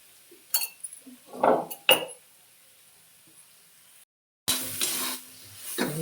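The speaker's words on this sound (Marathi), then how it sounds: "चांगल्या प्रकारे हलवायचं मिक्स करायचं" A spoon stirs mashed potato with turmeric and salt in a metal pot, giving a few sharp clinks and scraping bursts, with quiet gaps and a brief sizzle toward the end.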